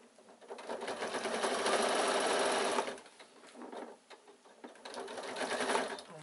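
A sewing machine runs close up, stitching a back tack on the pocket of a baby away-day bag, with a sustained burst of stitching, a brief pause, then two more runs of stitching.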